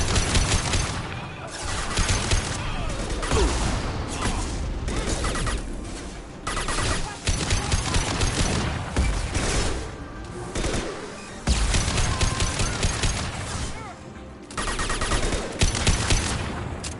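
Rifle fire from the video game Mass Effect 2 comes in loud, dense bursts of rapid shots separated by brief gaps, continuing across the whole stretch with no talking.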